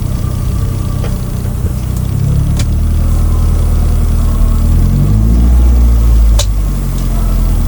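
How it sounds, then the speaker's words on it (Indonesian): A Toyota Avanza car engine runs with an abnormal noise, a loud, steady low rumble and hum with a few sharp ticks and knocks over it, close by and without speech. "kenapa ya suara mobil saya kok kayak gini?"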